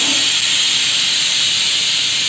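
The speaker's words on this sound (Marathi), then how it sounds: "आपल्या कुकरच्या पण शिट्ट्या होत आहेत मोकळ्या शिट्ट्या होतात व्यवस्थित तर पहिली शिट्टी झाली" A pressure cooker whistle releases a steady, loud high-pitched hiss of escaping steam, unbroken throughout, with no pauses or other sounds.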